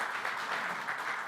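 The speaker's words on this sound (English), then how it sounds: "Applause and welcome for you too" Audience applause at a green hydrogen panel session in Bonn, welcoming a panelist: a steady wash of clapping from many hands, fairly even in level and without any voices on top.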